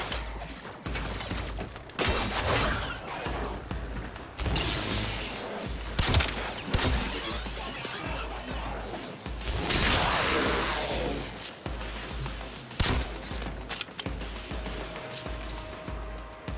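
Rapid bursts of gunfire from a weapon in the video game Warframe, firing in repeated loud volleys with mechanical clatter between them over about sixteen seconds.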